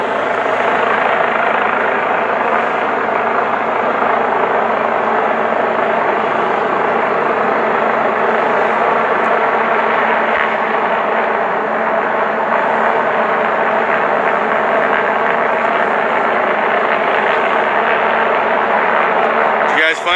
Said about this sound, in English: we got a helicopter over here to help us now